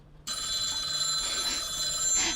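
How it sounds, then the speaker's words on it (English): A phone begins ringing abruptly with a bright, sustained electronic tone that carries on steadily, fairly loud and alone. "Your phone's ringing."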